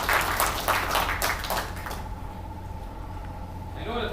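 Audience applause at a press conference on oil and gas exploration, heard as a broadband burst of clapping over the first two seconds, mixed with speech, then fading into quieter room tone.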